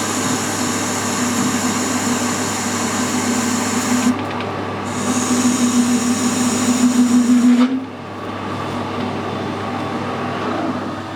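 A metal lathe hums steadily, with two stretches of harsher, grinding cutting noise over the motor drone as it cuts a chamfer on a steel tractor pin, before the cut stops and the motor keeps running.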